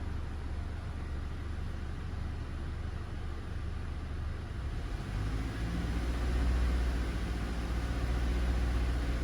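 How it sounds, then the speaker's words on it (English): A car engine with a rough idle hums steadily at low pitch, the revs hunting slightly up and down, a little louder toward the end, close and continuous with no talking. "A little bit too much rev hunting right here though."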